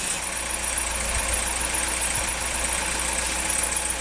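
A newly rebuilt Citroen DS23 engine runs steadily while warming up on its first start, a continuous, even mechanical hum with faint high-pitched whine and a few soft knocks.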